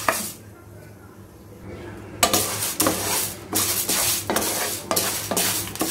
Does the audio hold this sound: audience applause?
no